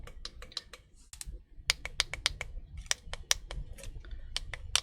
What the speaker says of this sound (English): They do have a detent or a click to them.